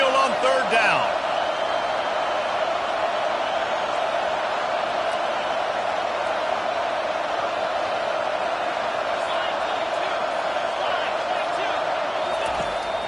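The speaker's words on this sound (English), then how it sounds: "Here comes this home crowd as the defense tries to get off the field on third down" Loud, steady home crowd roar in an NCAA college football video game as the defense faces third down, a sustained wall of cheering that holds constant throughout under a commentator's voice.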